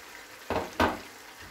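Yogurt and onion paste drops into a pan of mutton and tomatoes on a low flame, giving two brief, soft bursts of sizzling over a faint background hiss.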